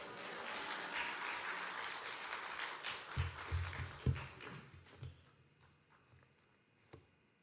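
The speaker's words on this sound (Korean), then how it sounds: "뜨거운 박수로 환영하도록 하겠습니다" A church congregation gives a pastor a brief, soft round of applause in welcome. The clapping is moderate at first, then fades into a few scattered claps and light shuffling.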